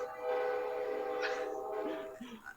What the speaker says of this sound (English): The trains are angry!